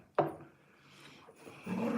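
Two dogs squabble over a toy indoors, a sharp bark-like yelp followed by whimpering and a rising growl, close and moderately loud with no speech.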